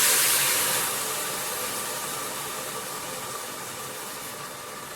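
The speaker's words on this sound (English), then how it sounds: "we need to put the water in to get it to start cooking" Four cups of room-temperature water pour into a cooking pot for a ginger potato dal, making a steady hissing rush that is loudest at the start and gradually softens.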